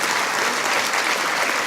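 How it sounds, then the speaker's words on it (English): An audience claps steadily and densely for students and band members, a sustained burst of applause with no talk over it. "Please give them a big round of applause."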